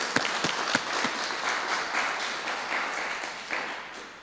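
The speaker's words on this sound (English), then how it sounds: "So let's give them another round of applause." An audience claps at the Friends of the Zimbabwe Pavilion launch, a sustained round of applause that opens with a few sharp individual claps and stays fairly even before slowly tapering.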